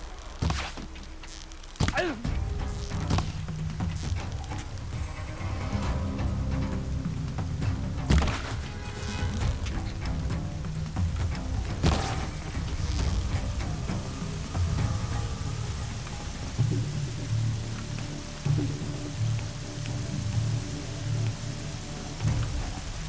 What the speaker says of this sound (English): Oh, the rain, the darkness.